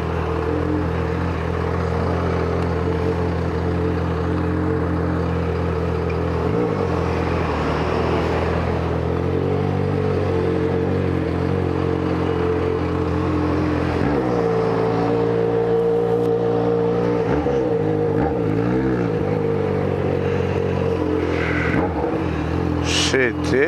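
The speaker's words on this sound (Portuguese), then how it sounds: "Vixe, é trânsito mesmo" Traffic of cars and motorcycles fills a busy road with a steady drone of engines and occasional revving, and vehicles pass at intervals while someone speaks nearby.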